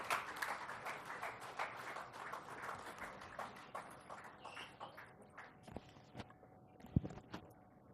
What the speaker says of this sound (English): let's all welcome with a huge round of applause